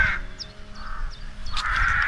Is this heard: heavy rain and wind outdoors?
no